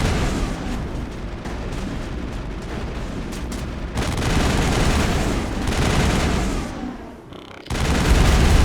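Heavy crossfire rages in the Mass Effect video game, continuous overlapping gunshots and bursts of automatic fire with booming impacts, loud and sustained throughout.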